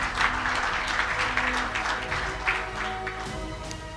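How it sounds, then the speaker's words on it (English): A conference audience applauds a panelist coming to the platform: dense, lively clapping that carries steadily for several seconds without pause. "please give him a warm round of applause."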